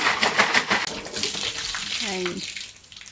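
Water splashes and sloshes close by as a bottle is scrubbed clean with sand, lemon and water, with a brief gurgling pour near the end and no clear speech.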